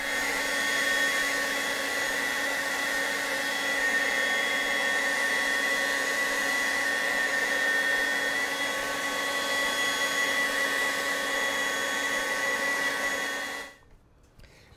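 A competitor's cordless leaf blower, set against the STIHL BGA 250, runs at a steady speed with a constant whirring motor whine and airy rush for about fourteen seconds, then stops abruptly.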